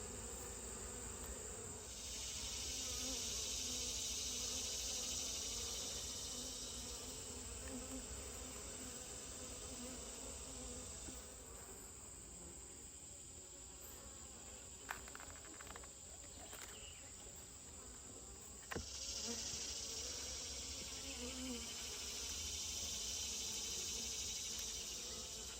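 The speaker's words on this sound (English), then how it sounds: "I'm going to get these angry bees out of the way" During a hive inspection, agitated honey bees keep up a continuous buzzing drone, with louder swells as swarming bees pass close and a few faint clicks and knocks.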